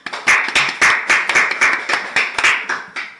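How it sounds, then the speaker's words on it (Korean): Class in a classroom claps together in a steady rhythm, about a dozen evenly spaced close, sharp bursts of hands with no talking. "박수 한번 주세요."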